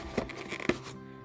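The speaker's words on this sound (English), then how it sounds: "I have to destroy the packaging to get Zora out" Plastic toy packaging cut and torn open up close, with a few sharp crinkling snaps and scraping rustles over about a second, moderately quiet.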